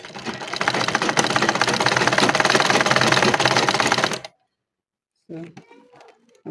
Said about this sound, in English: So the next thing we're going to top stitch this place.